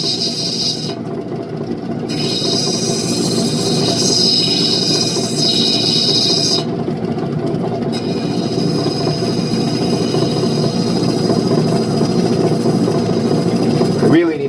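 A worn diamond wheel grinding through turquoise rough stone, a loud steady whirring hum with a continuous gritty rasp, holding constant throughout.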